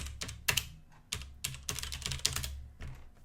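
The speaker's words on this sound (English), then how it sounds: "Oh, I typed it in wrong." Keys clatter on a computer keyboard while a Rust hello-world program is typed in, coming as several close bursts of quick, crisp clicks separated by short pauses.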